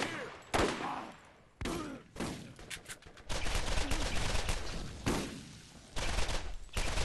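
Gunfire from the video game Borderlands, bursts of shots and sustained volleys crackling loudly in irregular stretches, with a brief break before heavier continuous fire.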